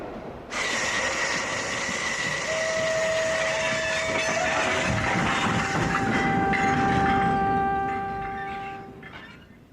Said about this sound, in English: When does this train stop? It doesn't stop. It's straight through to London.